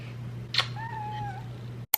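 A kitten gives a single clear, drawn-out meow at close range, set against a steady low background hum and a brief soft rustle just before it.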